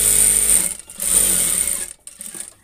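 A sewing machine stitches a Bengali jhura kantha quilt, the motor's steady whir running continuously before it stops and restarts briefly.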